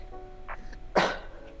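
A single sharp sneeze bursts out close by, a short explosive blast that fades quickly, with a faint murmur just before it.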